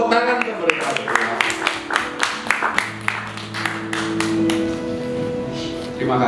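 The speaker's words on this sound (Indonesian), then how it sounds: "Beri tepuk tangan ke mereka." Guests at a wedding ceremony clap for the newlywed couple, with scattered, uneven claps rising over sustained music tones and voices in the hall.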